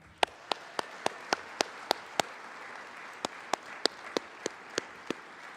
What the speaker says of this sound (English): And one last big, gigantic applause for Mr.